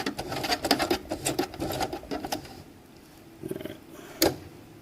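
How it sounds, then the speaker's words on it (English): A hand-cranked sewing machine stitches PALS/MOLLE webbing for an accessory pouch, giving a rapid run of close, sharp mechanical thumps that stops partway, followed by a few isolated knocks. "Hand crank stitches here."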